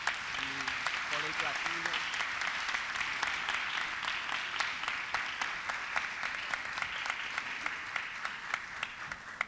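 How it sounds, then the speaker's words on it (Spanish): A symposium audience applauds at a humanities event, steady dense clapping filling the room for several seconds while a speaker's voice is briefly heard at the start. "a quien pido un aplauso por El Oso de Berlín"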